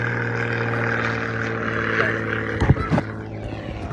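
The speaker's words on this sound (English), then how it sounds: "Got airplanes flying over us." Low droning engine hum of an aircraft passing overhead above a backyard pond, steady and moderately loud, with a few louder thumps near the end and no speech.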